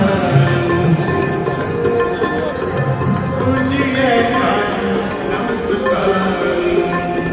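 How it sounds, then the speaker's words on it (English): Sikh Gurbani devotional chanting at the Golden Temple in Amritsar, with sustained tones and a melodic voice filling the space, steady and moderately loud, with a busy ambient murmur underneath. "what you're hearing right now is called as Gurbani"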